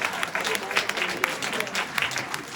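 Applause from the audience at a kavi sammelan poetry gathering, a steady wash of many hands clapping at moderate volume with some sharper individual claps. No one speaks over it.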